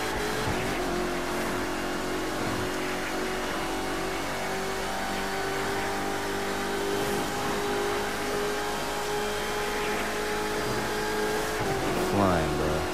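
Corvette C7 ZR1 supercharged engine in The Crew 2 racing game, a loud sustained revving roar with a whining harmonic tone, climbing and shifting near the end, while someone talks over it.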